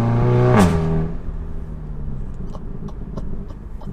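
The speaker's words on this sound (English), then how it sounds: "This exhaust is just crazy." An Audi fitted with a Borla catback exhaust and APR Stage 2 tune revs hard, a loud rising engine roar that peaks and drops off, followed by a string of crackling pops and bangs from the exhaust.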